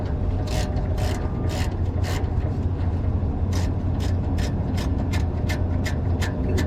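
A hand ratchet loosens an injector retainer on a Yale 175 forklift, clicking in quick, evenly spaced bursts of rapid pawl ticks over a low steady background hum.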